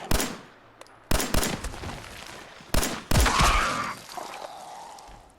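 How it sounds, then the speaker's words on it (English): Bursts of gunfire aimed at a mole rat in the video game System Shock 2, several loud sharp shots in quick clusters, then a lingering echoing ring and rumble, with no talking. "Yep, I shot that mole rat too early."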